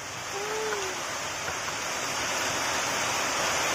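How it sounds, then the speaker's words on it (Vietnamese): Steady rain falls outdoors in Tay Ninh as a continuous, fairly loud broadband hiss that holds throughout, with no talking over it. "Mưa xuống luôn rồi"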